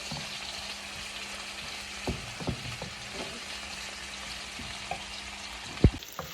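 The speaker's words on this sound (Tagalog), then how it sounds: "Hintayin lang po natin na medyo mag-brown-brown or talagang maluto po ang ating bawang at sibuyas." Garlic and onion frying in a pan give a steady, fairly quiet broadband sizzle, with occasional soft clinks and scrapes of stirring and one sharper knock near the end.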